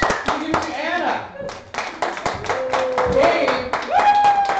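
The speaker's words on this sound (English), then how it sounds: "Applause." A small group claps and cheers briefly, scattered hand claps mixed with excited voices and shouts close by.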